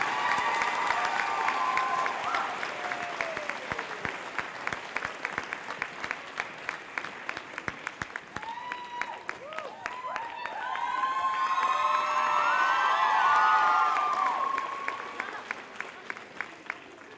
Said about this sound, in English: Please give our student speakers one last round of applause as they retake their seats.